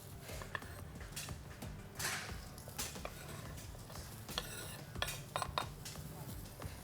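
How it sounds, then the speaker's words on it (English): Onions frying in oil in a wok as they are stirred, with frequent metallic scrapes and clinks of a utensil against the pan over a steady busy background. "Fry the onions until translucent, mixing."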